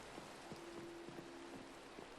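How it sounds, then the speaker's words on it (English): Rain falls steadily in the video game Minecraft, a soft continuous hiss with faint scattered droplet taps and a thin steady hum underneath. "I said water and it started raining."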